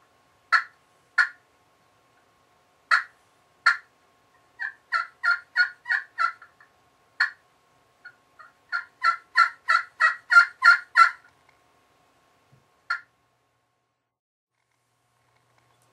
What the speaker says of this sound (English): on the friction cowl it sounds real nice, especially on the Cherry Classic Crystal, because you can get them real low yelps out of it.